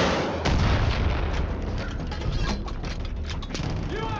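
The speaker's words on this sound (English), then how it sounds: "they have a rocket launcher as well" Booming rocket launcher blasts and heavy explosions from the video game Far Cry 5, several loud bursts in quick succession with rumbling debris and mechanical clatter in between.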